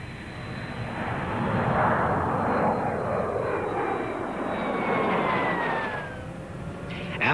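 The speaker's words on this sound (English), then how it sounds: "planes like the X-29." A jet aircraft roars past overhead, a loud sustained rumble with a whining tone that shifts downward as it passes, no voices.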